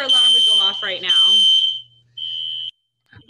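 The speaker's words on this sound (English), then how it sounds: "Of course, a fire alarm would go off right now." A smoke or fire alarm sounds loudly in a lab during a Zoom session, a steady high-pitched piercing tone that overlaps a woman's speech, stops, then returns for a short burst alone.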